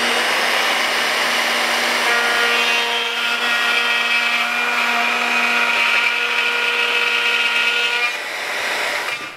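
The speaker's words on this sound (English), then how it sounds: "So we're just going to add on the standard Festool dust extractor to give us a little bit of help. So now simply a matter of routing down through this" Router cutting a sliding dovetail groove through a wooden board with a Festool dust extractor attached, a loud steady high-pitched whine that holds for several seconds before easing off at the end.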